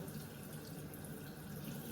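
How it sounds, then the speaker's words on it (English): Water runs steadily from a tap in a continuous close hiss, added to dumpling dough, with no talking, lasting the whole moment. "add some more water"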